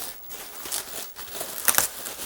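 Packaging around retro computer gear being unwrapped close by, with quick crinkling and rustling bursts and a sharper tearing crackle near the end, no talking.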